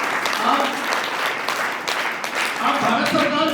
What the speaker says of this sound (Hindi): एक बार जोर से तालियां बजाएं।